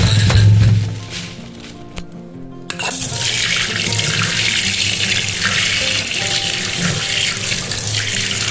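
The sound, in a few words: tap water washing fruit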